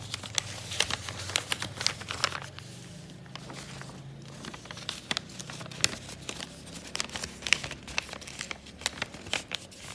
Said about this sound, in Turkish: şu elimizdeki kağıdı muska şekline katlıyorum